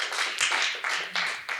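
Applause from a seminar audience welcoming a panel discussant, a broad continuous wash of clapping that swells in several waves over a short stretch, with no voices over it.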